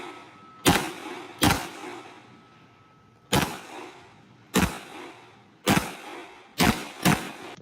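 Seven sharp gunshots at steel targets during a shooting stage, spaced irregularly with some quick pairs, loud and fairly close, with no voices.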